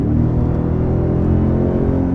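A 2022 Toyota Tundra Capstone i-Force Max hybrid truck engine gives a deep, steady V8-like rumble with a low throaty growl, loud and close, holding constant over a couple of seconds with no voices.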